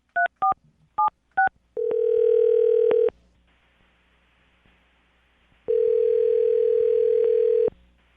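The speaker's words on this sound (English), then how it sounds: "Dial the phone number right now." Several quick touch-tone beeps dial a number, followed by two long ringback tones with a pause between them.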